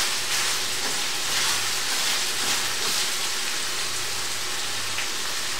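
Steady, dense sizzling of garlic in a hot frying pan, a broad crackling hiss that continues evenly throughout at close range.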